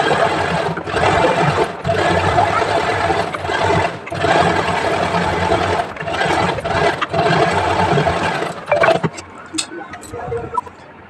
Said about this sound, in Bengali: পট্টির উপর দিয়ে আর একটা চার সেলাই দিয়ে নেব